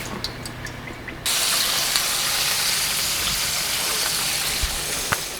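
A steady sizzling hiss of vegetable oil heating in a pan starts abruptly after a second of near quiet and holds evenly, with a few faint ticks.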